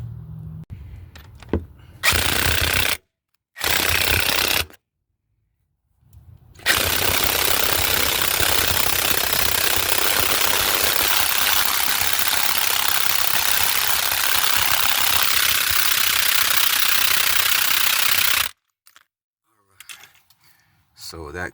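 Crank bolt being tightened on a 1997 Dodge Stratus 2.4L engine during timing belt work, long loud bursts of an impact wrench whirring and rattling with short pauses between, then quieter clicks.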